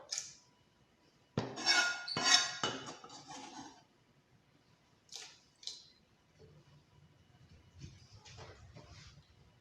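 Ginger pieces are dropped and scraped into a cooking pot, with a few close clinks and knocks of utensil against metal and quieter handling sounds between them.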